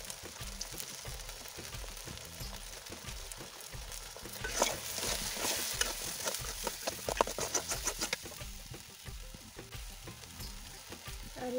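Chicken sautéing with turmeric and chili powder in a pan, a steady close sizzle and frying crackle with stirring scrapes, growing denser and louder midway, with no talking.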